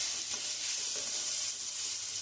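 Onions sauté in a pan for a South Indian poori masala, a steady close hiss of frying oil with faint stirring beneath, no talking.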